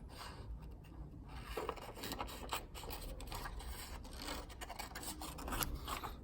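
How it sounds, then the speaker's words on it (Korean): Scissors cut through paper to trim out the elevator gauge for a paper airplane, producing close, quiet rasping snips and scrapes in uneven bursts with no talk. "먼저 엘리베이터 게이지랑 좀 이렇게 잘라 볼게요"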